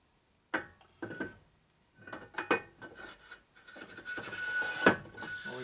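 Honing stones rasp against the cylinder bore of a 1946 Harley-Davidson Knucklehead stroker engine, in short scraping strokes that start and stop, then a longer continuous run of grinding close by.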